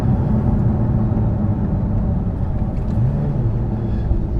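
Lotus Emira sports car with a 3.5 litre V6, driven in sport mode: a loud, steady low engine drone and road rumble from inside the cabin, with a brief rise in pitch near the end.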